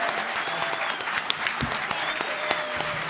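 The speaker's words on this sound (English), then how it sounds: "let's give them a round of applause." A convention panel audience claps steadily throughout for voice actors, dense continuous applause with scattered sharper claps standing out.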